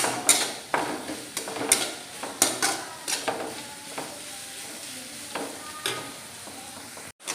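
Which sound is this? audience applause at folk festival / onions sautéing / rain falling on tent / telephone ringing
onions sautéing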